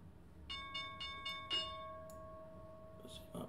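The stock market opening bell rings as a quick series of faint metallic strikes, then one sustained ringing tone that lingers and fades, heard softly in the background.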